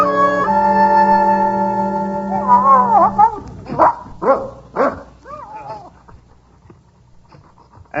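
Dog in an old-time radio mystery drama panting and giving several short barks and yips near the microphone after a sustained musical chord fades out.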